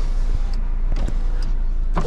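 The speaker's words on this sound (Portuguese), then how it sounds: "Abre os vidros. Como é que abre os vidros, essa porra?" Electric windows sliding in a rented Renault Kwid, a motor whir over the steady hum of the car interior, with a few soft clicks and thumps.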